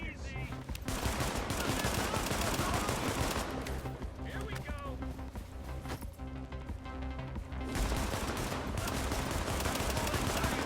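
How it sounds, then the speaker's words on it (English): Rapid SMG fire in The Division, PvP survival mode, with sustained automatic bursts rattling nearly without pause throughout, steady and close. "he's got SMG"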